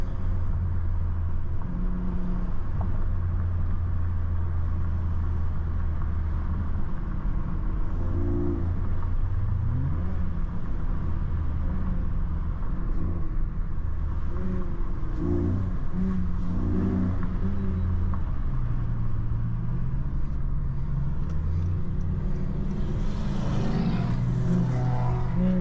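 A Ford Mustang and a Honda Accord V6 idle and roll side by side with a steady low engine drone, and one engine revs up audibly near the end.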